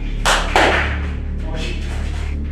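Two sharp claps ring out in quick succession inside the haunted Waverly Hills Sanatorium, close and fairly loud, followed by a quiet, lingering room tone.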